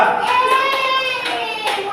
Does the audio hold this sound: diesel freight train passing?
no